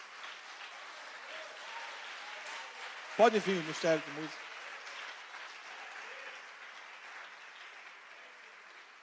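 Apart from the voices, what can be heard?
congregation applauding in church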